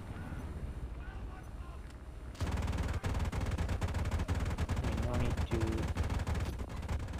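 Machine gun fire in the War Thunder Mobile tank game crackles in dense rapid bursts over a steady background rumble. It sounds moderately close and starts abruptly a couple of seconds in.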